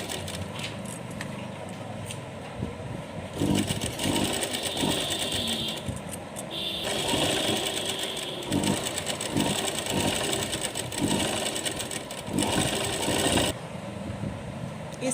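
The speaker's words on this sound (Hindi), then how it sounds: "ऊपर वाली साइड से भी हम इसी तरह से इसको सेट करते हुए सिलाई लगा देंगे।" A sewing machine runs in long, steady whirring stretches as it stitches a dhoti for a goddess outfit, pausing briefly now and then before starting again, with a steady rattling hum throughout.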